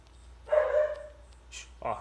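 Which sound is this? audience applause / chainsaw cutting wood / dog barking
dog barking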